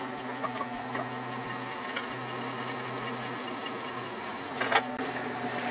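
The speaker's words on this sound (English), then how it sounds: "I will now counterbore for a 1/4-20 Phillister head screw." Machine counterboring a hole for a 1/4-20 fillister head screw, a steady close whine with a constant high-pitched tone and a low hum, broken by a brief cutting scrape near the end.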